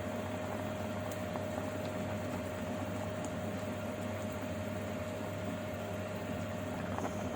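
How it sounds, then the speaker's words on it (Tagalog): A pot of salmon head sinigang with okra simmering on the stove, a steady soft bubbling hiss over a low constant hum, continuous and close with no talking. "Pakuluan ko lang."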